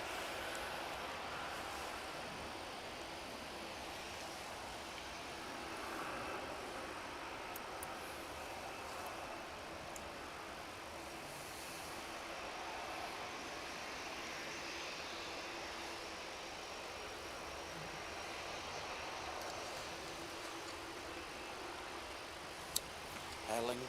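An Aer Lingus Airbus A330 departs for New York, its jet engines a faint, distant, steady rumble and hiss that swells gently, with low talk audible in the background.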